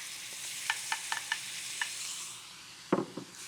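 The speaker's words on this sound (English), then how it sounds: "Give it a quick stir." Cauliflower stir-fried in a pan with lemon juice and sesame gives a soft, steady sizzle broken by a few sharp scrapes and clacks of a utensil stirring, close and clear.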